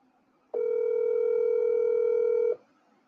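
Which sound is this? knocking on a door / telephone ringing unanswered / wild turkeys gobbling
telephone ringing unanswered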